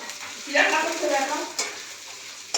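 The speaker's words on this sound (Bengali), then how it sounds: "এই তো ভাত ভাজা করছি।" Rice stir-fried in a pan with onion at home, making a loud sizzle that swells and fades as it is stirred, with a scrape of the utensil and no speech.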